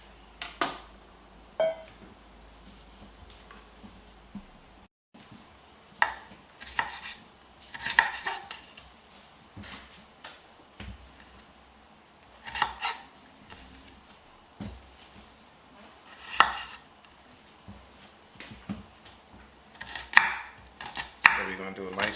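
An onion chopped for pico de gallo with a sharp knife on a board, sparse close knife strikes in scattered bursts and single thumps over about twenty seconds, with quiet gaps between and no voices.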